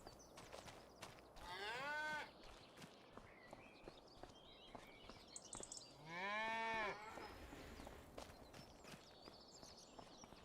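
Cows mooing on a farm in Farming Simulator 25, two long, loud, drawn-out moos a few seconds apart over a quiet background with light hoof clops and footsteps.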